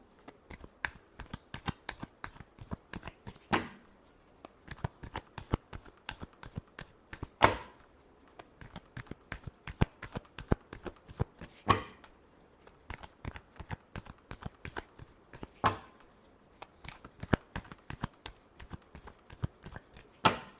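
Tarot cards are shuffled by hand at close range, a long run of crisp riffling flicks and taps in an uneven rhythm, with a few louder slaps, and no voice over it.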